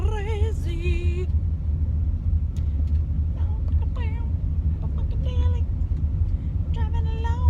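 Steady low road rumble fills a car interior while driving, continuous and prominent, with someone singing and talking over it throughout.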